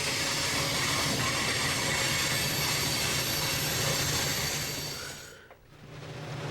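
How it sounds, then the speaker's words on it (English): A train rolls steadily past near a trestle in North Fond du Lac, a continuous loud rumble and rail noise that dips briefly near the end, with no voices. "it's coming out of Jim's trestle now."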